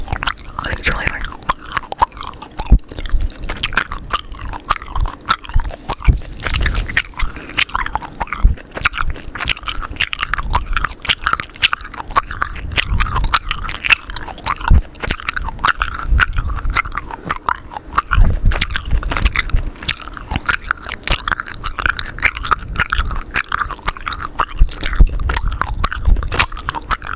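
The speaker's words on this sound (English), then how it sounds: "talking while chewing gum is so annoying" Gum is chewed close to the microphone with wet, crunchy biting and smacking sounds, continuing under quiet speech the whole time.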